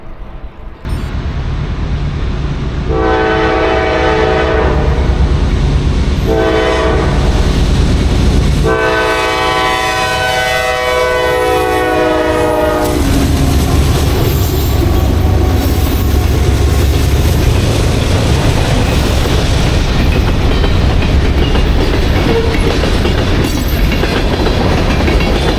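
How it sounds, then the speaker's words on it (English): A train rumbles past up close in downtown Cairo, Georgia, its horn blaring in several long blasts with pauses between, over steady heavy rolling noise that continues after the horn stops. "Oh, I hear a train coming."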